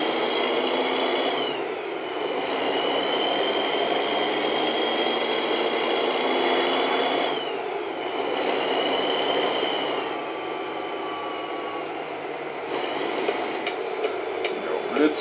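Simulated truck engine in American Truck Simulator, a steady droning hum with mechanical whine holding level throughout, continuous and fairly close, with brief shifts in tone as the truck drives on.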